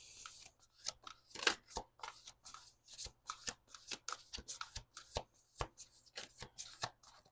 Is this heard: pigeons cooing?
no